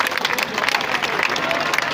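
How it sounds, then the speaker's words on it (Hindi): An audience at a student project presentation clapping continuously, a dense, fairly loud crackle of many hands with some crowd murmur mixed in. "अभी आप लोग बहुत सारी तालियां बजा रहे थे।"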